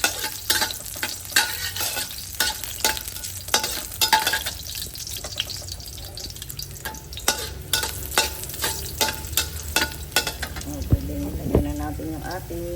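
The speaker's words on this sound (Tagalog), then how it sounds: "Lagyan na natin yung ating luya, kunting luya na." A small amount of fresh ginger sautés in a pan while being stirred, with a steady sizzle and repeated scraping, clattering strokes of the utensil throughout; a voice talks briefly near the end.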